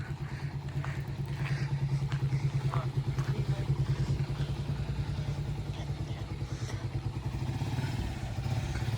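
A motorcycle engine runs steadily up close throughout, with a low rumbling drone and some clatter and thumps from the road during the ride.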